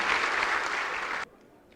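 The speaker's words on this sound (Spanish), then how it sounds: "el aplauso para él y para ella" A church congregation at a wedding Mass bursts into dense, close applause that stops abruptly after about a second, leaving near silence.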